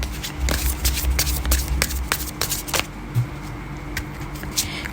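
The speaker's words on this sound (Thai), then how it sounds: "จะขอเปิดไพ่ต่อให้นะว่า พลังงานของไพ่ต้องการจะบอกอะไรกับคุณคะขอสามใบนะคะ" Tarot cards shuffled by hand in a rapid riffling run, with dense crisp flutters and soft taps close up, tapering off toward the end, with no talking.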